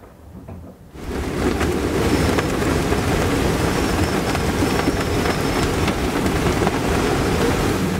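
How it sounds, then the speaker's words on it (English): Heavy rain and strong storm wind, gusting to about 46 knots, strike a boat at anchor, rising abruptly after a quieter opening second into a loud, continuous roar. "So the storm, when it finally did come over us, got pretty strong."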